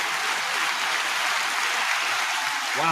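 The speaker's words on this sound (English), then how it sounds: "Wow, that's a long round of applause" Sustained audience applause at a volunteer avalanche-safety talk, a dense, steady wash of clapping hands filling the room at close range for the full length, with no voices over it.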